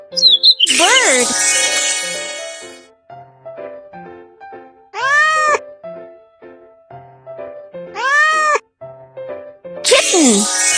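A cartoon kitten meows twice, each a short rising-and-falling mew, over soft background music, with sharp whooshing accents at the start and end, in a children's animated show.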